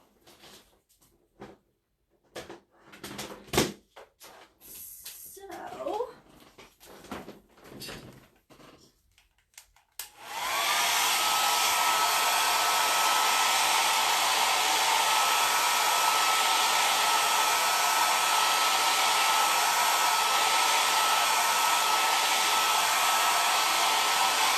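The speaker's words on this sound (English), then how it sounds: "I think I'm going to hit it with the hair dryer real quick" A hair dryer switches on and blows with a loud, steady whoosh, after some earlier handling noises and light clatter.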